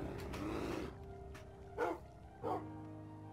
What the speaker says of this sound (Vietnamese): con chó sói nhỏ bây giờ nó lớn rồi các bạn à